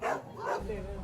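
Dogs rescued from a dog slaughterhouse in Candaba, Pampanga bark and yip in a short, close burst lasting about a second.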